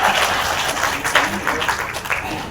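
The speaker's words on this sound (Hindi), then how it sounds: "ताली बजा।" Audience applause at a Hindi comic poetry recital in Indore, a dense steady patter of clapping filling the whole stretch at moderate loudness with no voices over it.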